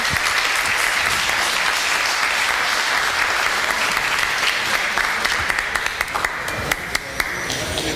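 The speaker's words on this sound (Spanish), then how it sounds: "pedirle un caluroso aplauso de parte del auditorio" An auditorium audience claps warmly for the speaker after an environmental legislation talk, a dense, steady wash of applause that thins into a few scattered, sharper claps near the end.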